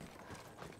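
Horse hooves clip-clopping in the World War I shooter Battlefield 1, a short burst of faint, quick hoof steps under low background sound.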